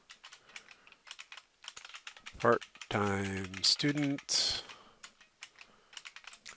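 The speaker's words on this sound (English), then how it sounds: "I grow weary of typing." Light, rapid clicking of computer keys typing continuously, with a person speaking briefly over the keystrokes.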